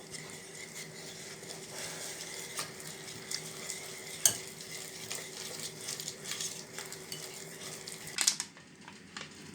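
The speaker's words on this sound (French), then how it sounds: "Et là, j'essaye de mélanger énergiquement." Crêpe batter for ham-and-mushroom crêpes, made without resting, is whisked hard in a bowl: a busy, continuous scraping and sloshing up close with sharper clinks near the end, then it stops abruptly.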